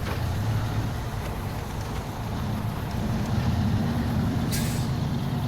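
A crane-equipped truck drives in the snowy off-road game SnowRunner, giving a steady, deep diesel rumble with a faint hiss, continuous and fairly even throughout, with no talk over it.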